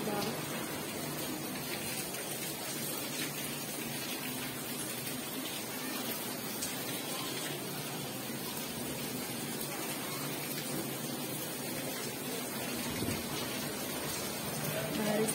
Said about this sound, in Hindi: बारिश आ गई है तो भी